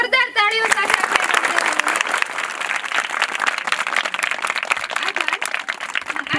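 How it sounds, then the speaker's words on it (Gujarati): Enthusiastic applause from the crowd at a school annual function, dense continuous clapping that stays loud throughout, with a voice speaking over the opening moment. "ફરી એકવાર જોરદાર તાળીઓ સાથે"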